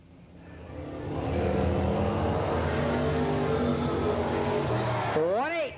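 Super sport race cars circle the Willamette Speedway track, their engines building into a loud, sustained roar. A track announcer talks over the noise, and a rising and falling whine cuts through near the end.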